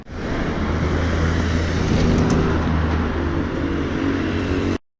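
Big lorries pass on a nearby road, a loud, continuous broadband roar with wind rush that holds steady for several seconds before cutting off abruptly.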